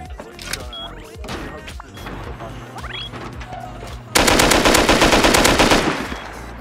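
Rapid automatic gunfire from an auto turret in the game Rust breaks out loud and close, a dense sustained burst over several seconds following scattered clanks and background game noise.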